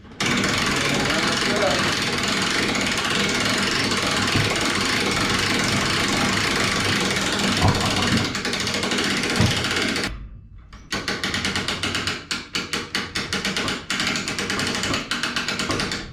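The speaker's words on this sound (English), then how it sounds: "And it's just going to start pulling that coon inside out." A homemade raccoon-skinning machine runs with a loud, steady engine-like drone. The drone cuts out for a moment, then comes back in a choppier, pulsing form, and it sounds close.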